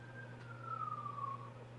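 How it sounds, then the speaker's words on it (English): An ambulance siren passes near a firehouse at the top of a residential street, a single long wailing tone that swells, then gently falls in pitch over a steady low hum, moderately distant. "It's an ambulance."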